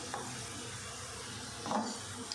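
Whole spices — black cardamom, cinnamon, cumin seeds, cloves and green chillies — dropped into hot oil with browned onions for masoor pulao, giving a steady close sizzle with a brief louder crackle near the end.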